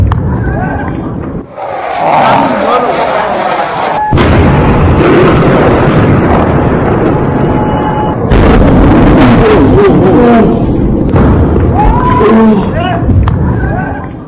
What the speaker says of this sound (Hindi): ये तस्वीर आप देख रहे हैं, तेहरान पर मिसाइल अटैक हुआ है